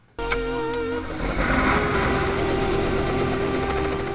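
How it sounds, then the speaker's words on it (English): A sightseeing helicopter over the Smoky Mountains, its turbine whine and rotor thrum starting abruptly and holding at a steady, loud, close level. "you leave in the helicopter and you go home"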